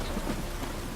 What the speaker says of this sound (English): It don't stop raining,